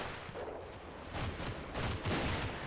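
Rapid bursts of battlefield gunfire from the WWII tactical wargame Combat Mission: Red Thunder, a dense, loud fusillade swelling in several waves over a few seconds at dusk, with no voices.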